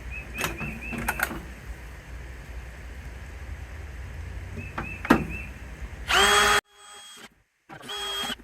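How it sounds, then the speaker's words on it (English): An electric drill whirs in short bursts while drilling pilot holes in metal, with clicks and handling noises between them, then a longer, louder run of drilling near the end. "we need to drill some pilot holes"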